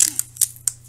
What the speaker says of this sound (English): maybe actually I'll cut it off where that bend is